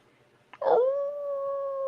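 A person imitates a dog howling, one long sustained wavering howl that rises sharply and then holds steady, close and fairly loud, with no other sound over it.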